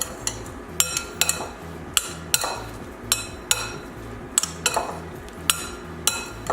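Ingredients seasoned with salt and pepper are being mixed in a bowl: a utensil clinks and scrapes rhythmically against the sides at a steady pace, close and fairly loud, with no talking.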